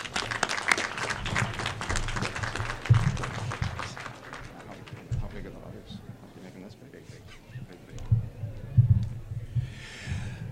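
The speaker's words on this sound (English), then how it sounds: "So can you give a good warm applause," An audience at the Future Oxford Expo opening address applauds for Randy Peltz, clapping heard over the first half and fading, mixed with voices and some nearby thumps.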